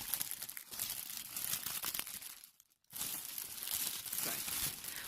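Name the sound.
cellophane wrapping rustling and crinkling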